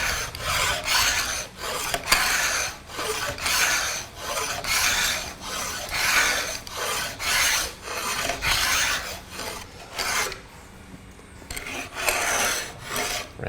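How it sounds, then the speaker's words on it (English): A draw knife scrapes along the limb of a wooden self bow, about a dozen rhythmic rasping strokes in steady succession, close and fairly loud, with a brief pause near the end before scraping resumes. "turn my draw knife up about a 90 to the limb. Take about 10 good scrapes off of here."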